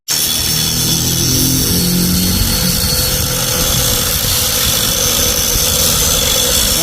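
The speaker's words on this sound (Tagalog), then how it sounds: "Ayan, nililinis siya, nililiha." A power sander works a part for a rear disc brake conversion on a Honda Click 125/150 scooter, giving a loud, steady, close abrasive whir throughout, with the motor's pitch shifting in the opening seconds and no talking.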